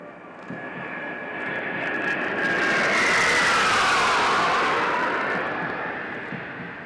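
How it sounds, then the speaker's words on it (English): Su-30 fighter jets flying over a parade ground at a military academy passing-out parade, a loud roaring jet engine sound that swells as they pass overhead and then slowly fades. "as you can see the Su-30 aircrafts approaching the parade ground, bidding farewell to the passing out course"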